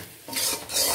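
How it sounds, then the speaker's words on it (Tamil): Mutton with spice masala stirred in a pan, close rasping scrapes of a spoon pushing the thick mixture in two bursts, with a soft sizzle beneath. "மசாலாக்கள் எல்லாம் சேர்த்து நல்லா மிக்ஸ் பண்ணி விட்டாச்சு"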